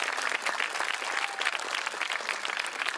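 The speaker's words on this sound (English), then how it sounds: "A huge, huge round of applause for them." Audience applause fills a school event, steady dense clapping from a crowd throughout, close and continuous without speech.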